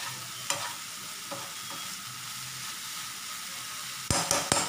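A spoon scrapes and stirs tomato mint chutney in a hot pan, with a low sizzle underneath and a few sharper clinks of utensil against metal near the end.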